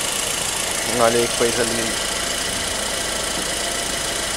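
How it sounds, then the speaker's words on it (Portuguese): Chevrolet Astra sedan engine idling steadily after ignition repair, a smooth even hum with no misfires, running under a short spoken remark from a man. "a ignição do carro está perfeita, o motor não tem nenhuma falha"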